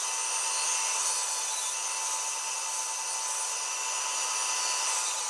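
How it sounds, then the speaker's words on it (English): Bandsaw slicing through scrap wood, a steady unbroken hissing rasp of blade on timber that holds level from start to finish, close and fairly loud with no voices. "now we're over to the bandsaw"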